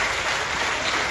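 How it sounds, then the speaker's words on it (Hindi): Audience applause for a person at a Hindi-speaking gathering, a short, dense wash of clapping at steady volume with no voices over it. "एक बार इस इंसान के लिए जोरदार तालियां मारते हैं।"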